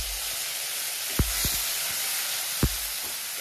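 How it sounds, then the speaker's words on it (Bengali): Chopped tomatoes sizzle in hot oil with bay leaf, dry red chilli and five-spice, a steady close hiss broken by a few sharp crackling pops. "এবার এটার মধ্যে দেব কেটে রাখা টমেটো।"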